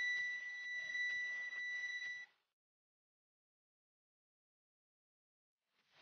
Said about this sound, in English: A beeping sound indicates that it has exceeded 60 A.